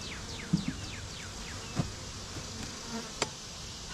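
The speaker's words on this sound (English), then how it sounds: "They were, like I said, a late blooming hive." Honey bees from a late-blooming hive buzz steadily in the background, with several brief insect fly-bys sweeping past close to the listener.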